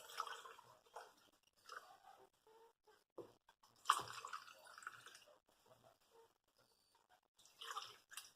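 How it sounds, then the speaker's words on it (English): Homemade elderberry syrup is poured into a glass canning jar up close, giving soft intermittent trickles, splashes and glassy drips in short bursts separated by near-silence. "I'm going to pour it into this canning jar"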